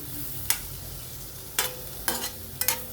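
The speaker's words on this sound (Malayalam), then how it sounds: "ഇതെല്ലാം കൂടി ഒന്ന് നമുക്ക് മിക്സ് ചെയ്തെടുക്കാം." A spoon scrapes and stirs a spice mixture for egg roast in an iron pan, four sharp separate strokes over a faint, quiet background sizzle, with no talking.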